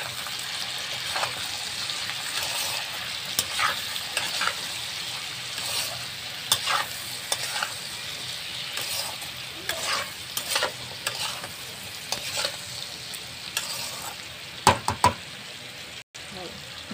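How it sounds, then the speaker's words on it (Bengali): Tengra fish stir-fried in a pan with salt and turmeric, giving a continuous sizzle under repeated spatula scrapes and knocks against the pan, close, with talking at times. "ভালো করে এবার কষিয়ে নেব।"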